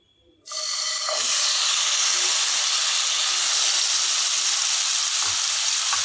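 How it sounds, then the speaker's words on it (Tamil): Cut pineapple pieces drop into hot ghee for pineapple rava kesari, and a loud sizzling hiss bursts out after a brief quiet start. The hiss holds steady and close, with a couple of faint clinks underneath. "பைனாப்பிள் நெய்யில் வந்து ஒரு 2 நிமிஷம் நல்லா வதக்கிட்டேன்"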